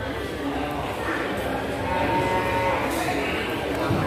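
Water buffalo at a livestock market, low lowing and moo-like calls over a dense, steady crowd and market din, with people talking throughout.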